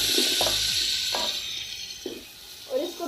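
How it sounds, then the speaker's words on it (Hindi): Meat frying in a pot for Kabuli pulao, with tomatoes in the pot: a steady soft sizzle broken by short stirring scrapes and clatters, fairly quiet and close. "और इसको थोड़ा सा भूनेंगे।"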